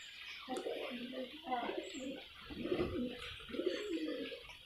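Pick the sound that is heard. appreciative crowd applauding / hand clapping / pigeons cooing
pigeons cooing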